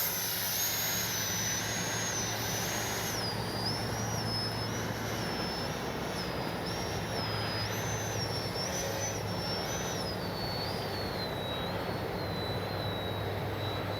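An E-flite 64mm Viper RC jet flies with its ducted fan whining in a sustained high pitch that shifts as it passes, over a steady broadband roar of wind and engine.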